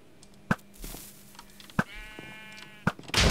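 Sheep in the video game Minecraft bleat in a few short synthetic calls, separated by sharp clicks and game effects, fairly close and clear, with no talking.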